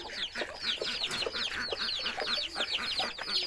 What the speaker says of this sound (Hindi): तो बच्चों वाली मुर्गी को निकालें।